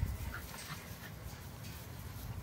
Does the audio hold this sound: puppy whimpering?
yes